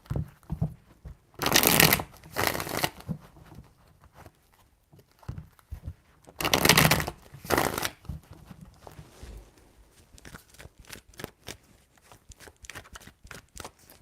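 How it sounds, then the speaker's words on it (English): Tarot cards are riffle-shuffled in three bursts, the first two loud and close with a rapid fluttering rush, the last quieter and more scattered, leaving soft tapping and card handling in between. "Three shuffles."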